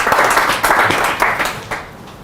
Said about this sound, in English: So we'll give him an initial round of applause of what will be many to come.